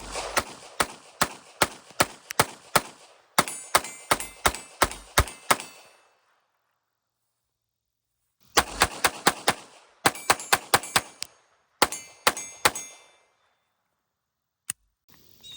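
Winchester .22 LR rounds from a ten-year-old survival cache fire from a TX22 in quick strings of sharp, loud cracks, bursts of rapid shots separated by a pause, with a single late shot near the end.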